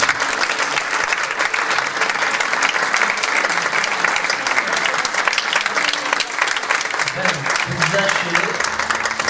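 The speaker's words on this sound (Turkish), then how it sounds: "Alkışlar." An audience applauds after a Turkish poetry recital, steady loud clapping that fills the whole stretch without a break, with a few voices faintly audible underneath.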